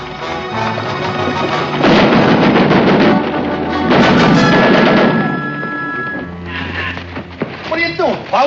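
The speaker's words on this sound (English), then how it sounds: "It's a battery. Battery of rifles." A battery of rifles fires in loud, overlapping bursts of gunfire, with heavy volleys around two and four seconds and scattered sharp shots toward the end, set against a dense background of noise.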